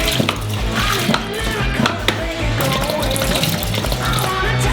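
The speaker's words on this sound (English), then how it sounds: "Open them up and pour them into a large saucepan." Milk pours steadily from cartons into a large saucepan, a continuous liquid splash and gurgle heard close by with faint kitchen clatter underneath.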